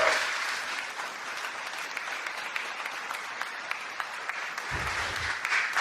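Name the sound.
applause for the Lord in church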